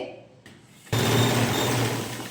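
After a brief quieter lead-in, a sewing machine starts up and runs in a steady, close whir as it stitches the side seam of a shirt.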